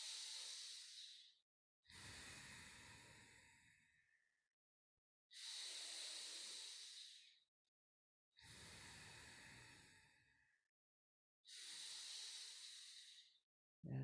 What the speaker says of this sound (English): Breath in the belly.